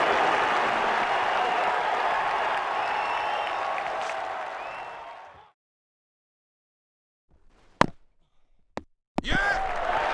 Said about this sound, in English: The crowd are standing to salute him.